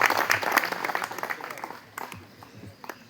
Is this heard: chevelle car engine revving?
no